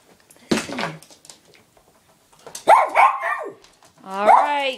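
Dogs bark and yelp in a few separate bursts, fairly close, with whining tones and gaps of quiet between them.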